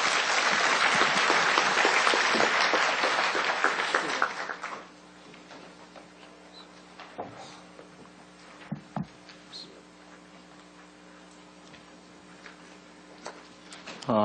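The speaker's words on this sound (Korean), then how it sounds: "우리 박수로 맞이하겠습니다." An audience at a Korean church lecture event applauds to welcome a speaker, a loud burst of clapping that stops after about four seconds, leaving a quiet room with low hum and a few small knocks.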